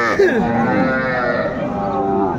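A cow at a village cattle market moos loudly and close, one long drawn-out low call, with faint market background beneath and no clear talk.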